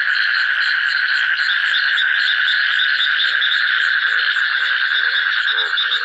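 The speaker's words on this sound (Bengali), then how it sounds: "বৃষ্টি হওয়ার কারণে কিন্তু ব্যাঙ ডাকে" Frogs call in a dense, loud, continuous chorus of pulsing croaks during heavy rain in a banana grove, with overlapping rhythmic trills and no talking.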